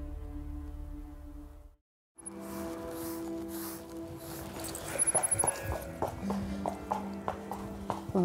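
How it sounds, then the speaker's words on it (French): Hooves of a horse clip-clop at a walking pace in a steady, moderately close rhythm over a background of ambient noise, with no talking. "On monte tous à cheval"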